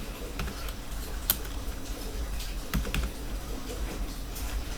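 Typing on a computer keyboard while entering stock screening filters, with scattered soft key clicks and a few sharper taps over a quiet room background.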